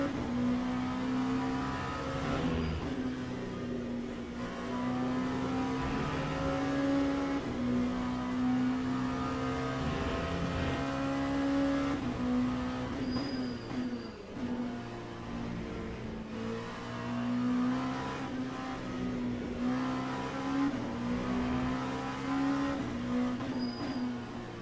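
An LMP2 prototype racing car's engine drones steadily and loudly throughout a ranked race in Le Mans Ultimate at Spa, with pitch rising and falling through gear changes and occasional brief tire squeal.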